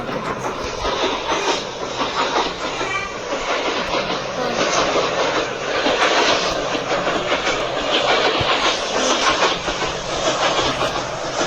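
A video game train rumbles along continuously with a steady rolling clatter, loud and close, without pause.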